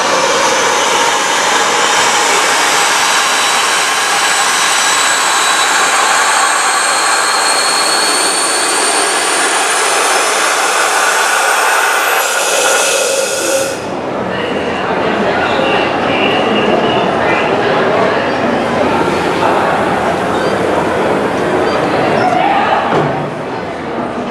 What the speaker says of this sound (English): Running is an 1859 Corliss stationary steam engine.